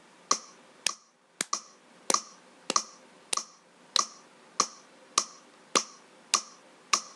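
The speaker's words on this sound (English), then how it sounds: "at the moment I've got a metronome playing, and it's just a simple slow beat" A metronome ticks a simple slow beat, with about a dozen sharp, evenly spaced clicks at roughly one per half second. The clicks are clear and dry and stand alone in a quiet room.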